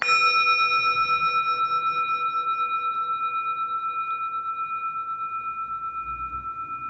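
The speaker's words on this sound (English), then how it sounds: "you can just simply use a bell or a bowl" Bell or singing bowl struck once, a clear resonant ring with several pure overtones that sustains and slowly fades with a gentle wavering pulse over several seconds, heard alone.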